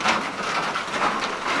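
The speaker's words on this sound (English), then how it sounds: "Out of nowhere came the rain." A sudden rain shower after a 104-degree day, a steady dense hiss of rain pouring down close by with no voices.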